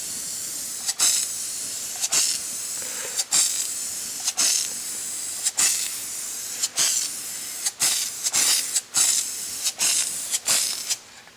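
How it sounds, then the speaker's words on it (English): Spray paint from a shaken aerosol can laying down a coat on a custom trailer wheel: steady hissing bursts, close and fairly loud, broken by about a dozen brief pauses in a sweeping rhythm, with no talking. "grab your spray paint can, give it a whole bunch of shakes, and then in a sweeping right to leftish motion"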